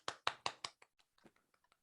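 A small group of people clap in four loud, close, evenly spaced claps for the Toastmaster, then a few scattered, quieter claps trail off.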